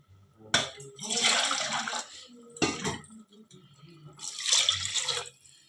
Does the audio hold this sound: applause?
no